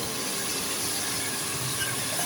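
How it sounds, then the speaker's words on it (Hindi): Water pours steadily into a pot holding pumpkin and chana dal, a continuous hissing splash with no pauses or talk. "इसके साथ मैं पानी डालूँगी"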